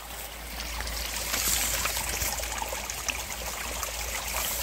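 A stream runs down a broad valley from a waterfall behind a storehouse, a continuous steady rush of flowing water heard up close with a low rumble beneath, and no voices.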